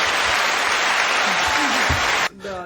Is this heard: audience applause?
yes